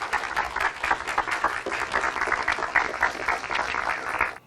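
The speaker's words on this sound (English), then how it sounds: "the captain's being forced to give a speech to a room full of clapping robots" Dense, steady applause from a room full of clapping robots in an audio drama, a continuous wash of many hands with small surges and dips before cutting off abruptly at the end.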